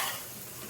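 Curry leaves dropped into hot oil for a veg pulao give a brief, bright, hissing sizzle close by, loud at first and then settling.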